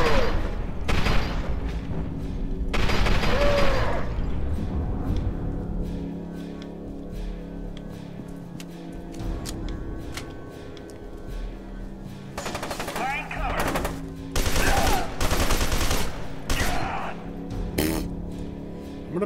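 Gunfire in F.E.A.R. 2, with repeated bursts of loud automatic weapon fire and booming shots coming in clusters, separated by quieter stretches of game ambience and clinking debris.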